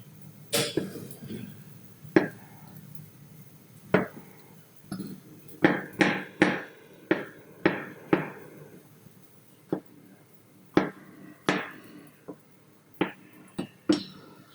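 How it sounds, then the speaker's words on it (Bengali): A knife chopping sponge gourd (dhundul) into pieces on a cutting board, a series of sharp, close taps spaced unevenly at first and then in quicker bursts, with quiet room tone between the cuts. "দুন্দুল কাটা শেষ, এখন আমি রান্নায় যাব।"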